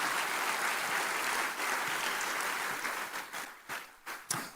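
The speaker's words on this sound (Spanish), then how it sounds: "La iglesia presente le da un aplauso a Dios por ustedes" A church congregation claps together in a full, sustained round of applause that breaks into looser, scattered claps and fades near the end.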